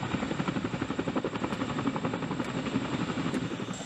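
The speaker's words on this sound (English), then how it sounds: "A CH-47 Chinook hovers precisely above the planned extraction spot in a" A CH-47 Chinook helicopter hovers over a body of water, its twin rotors producing a loud, steady rhythmic chop with a broad rushing wash beneath, continuous and close.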